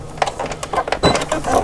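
A sewing machine stitches fabric in a quick, rattling run of mechanical clicks and whirs, close and fairly loud, over less than two seconds.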